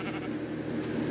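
A blocky sheep from the Minecraft Alpha video game gives a short, close bleat, a single nasal bleating cry heard alone.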